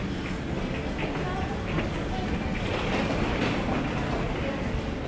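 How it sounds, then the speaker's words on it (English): Constant broadband rumble of a busy train station concourse in Washington DC, with a steady roar of rail movement and faint crowd hubbub, no distinct individual sounds standing out. "It's like a big mall inside a train station."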